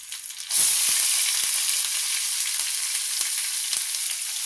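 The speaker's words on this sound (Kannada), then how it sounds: "ಜೀರಿಗೆ ಎಲ್ಲ ಚೆನ್ನಾಗಿ ಸಿಡಿಬೇಕು ಸಿಡಿದ ನಂತರ ಸ್ವಲ್ಪ ಕರಿಬೇವ ಮೆಣಸಿನಕಾಯಿ" Cumin seeds, curry leaves and chillies splutter in hot oil: a loud, steady, close sizzle starts abruptly and carries on with scattered small pops and crackles throughout.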